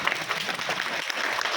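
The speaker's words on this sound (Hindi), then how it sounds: "सर के लिए जोरदार ताली हो जाए" Loud applause from a seminar audience for the presenter of a sugarcane crop-growth product, a steady patter of many hands clapping with faint voices underneath.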